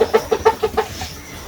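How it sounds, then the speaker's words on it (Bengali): Village chickens cluck in a quick run of close, loud calls while they are given feed and water on a morning farm. The clucks fade to quieter rustling near the end. "তো মুরগিতে খাবার দিছি, তো জল দিলাম, আগে জল খাইতেছে"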